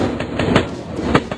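A train rolls through a station in a train station simulator game, with loud rumbling and rhythmic wheel clatter close by, no voices.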